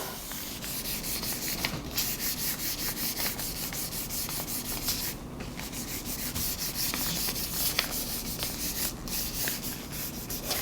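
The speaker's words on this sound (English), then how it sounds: "I will use this as a hinge, and I'll start to rub." Printing paper rubbed by hand over an inked gel printing plate, a steady close scratchy rubbing and sanding sound that runs continuously with brief louder swipes and no talking.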